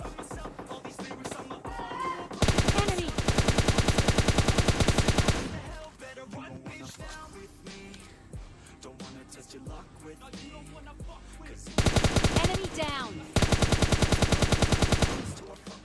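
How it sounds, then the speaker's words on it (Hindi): Rapid M4 rifle fire in PUBG Mobile Lite, two loud sustained automatic bursts separated by quieter game sounds and background music-like tones. "मेरे ठीक सामने एक स्क्वाड होती है जिसके ऊपर मैं फायर करने की कोशिश करता हूँ"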